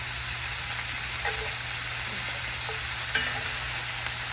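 Chicken crisping in a cast iron skillet, a continuous close sizzle and crackle with a few faint scrapes and taps of a utensil.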